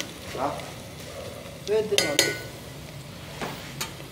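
Aromatics sautéing in a pan for chicken feet adobo, a low sizzle with a few stirring scrapes and utensil clinks against the pan, close and moderately loud with no talk.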